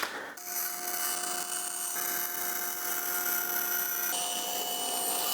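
A hand saw cuts through a wooden guitar body in steady rasping strokes, a continuous close scraping texture that runs throughout without speech.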